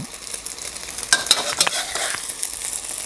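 A cha-om omelette fries in a pan with a close, steady sizzle and scattered sharp pops and spits, growing busier toward the middle.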